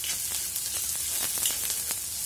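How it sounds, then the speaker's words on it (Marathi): Onion sizzles steadily in a hot pan as it fries until reddish, with soft stirring scrapes close by and no talking. "असा कांदा लालसर होईपर्यंत परतायचा"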